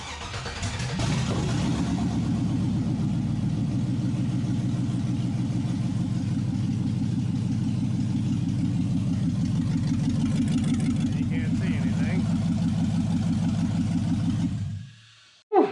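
An LS-swapped Chevrolet S10 engine idles loud and close through open straight headers, a deep steady rumble after it fires up, then cuts off near the end with a brief knock; a voice speaks briefly.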